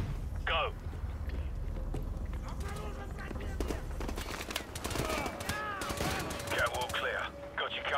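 Distant gunfire and scattered shots in a military shooter video game, under game ambience, radio chatter and voices talking throughout.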